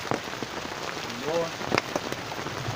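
Steady rain patters on surfaces outdoors in Jhang, a dense continuous hiss with scattered drops, while a voice speaks briefly in the background.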